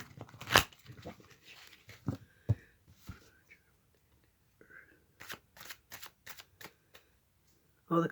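Playing cards being shuffled in several quick riffling bursts, separated by short pauses, close up with a few soft handling sounds.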